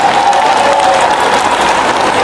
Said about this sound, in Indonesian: Beri tepuk tangan untuk semua yang hadir bersama kita di sini.